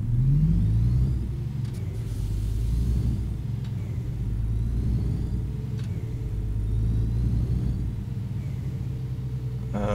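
A truck engine in the simulation game On The Road rumbles steadily as the rig pulls away, a low continuous drone with slight rises in pitch, fairly close and unbroken by talk.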